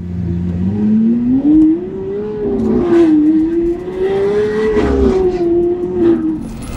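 Lamborghini Aventador engine accelerating, a smooth rising drone that climbs in pitch and holds steady with small surges, heard from inside the car at moderate loudness.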